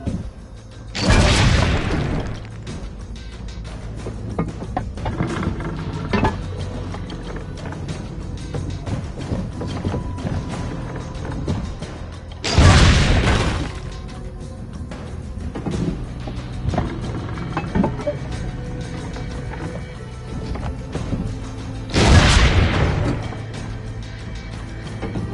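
Cannon fire in the video game Assassin's Creed Brotherhood: three heavy, loud booms spaced roughly ten seconds apart over a steady background din.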